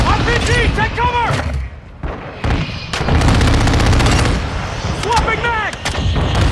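Gunfire and heavy explosions, including an RPG blast, in the shooter game Modern Warfare 2, loud booms and rapid shots packed together with a short lull in the middle, mixed with in-game voice chatter.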